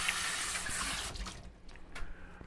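Running tap water rinsing out a pot while making Jamaican-style chicken soup, a loud steady splashing stream that cuts off about halfway, leaving faint drips and clinks.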